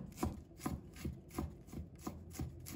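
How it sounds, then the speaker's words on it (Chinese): Knife mincing a small piece of peeled fresh ginger on a cutting board, a steady run of quick, soft chops in bursts of two or three, close and fairly quiet with no talk. "再切成细丝，然后再切成姜末"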